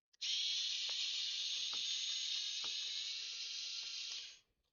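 An electric screwdriver removing screws from a Nintendo Switch OLED, a close, continuous high buzzing whir for about four seconds with faint ticking clicks underneath, stopping abruptly.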